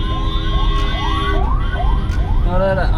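An ambulance siren wails in quick repeated rising sweeps, loud and close, over a steady background din at a fair ground in Kollam.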